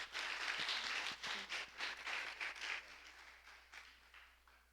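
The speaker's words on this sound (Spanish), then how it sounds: "Dele un aplauso al Señor" A church congregation applauds in a dense, steady burst that fades gradually, heard somewhat distant and faint.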